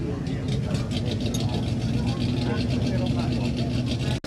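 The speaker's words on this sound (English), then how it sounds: "1916 Model T Ford Speedster." A 1916 Model T Ford Speedster engine running at a hill climb event, a steady low chugging throb close by, with people talking over it before it cuts off abruptly at the end.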